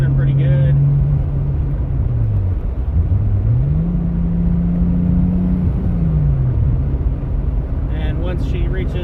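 Rebuilt Toyota Supra 2JZ engine idling and running with a loud, continuous low rumble and a gently wavering pitch; someone talks over it.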